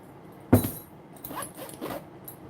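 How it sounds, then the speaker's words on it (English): Medium duty zippers on a VETO tool bag give a sharp zip, then several softer rasping pulls, close and quiet, over a couple of seconds. "These are those medium duty zippers that I was just referencing"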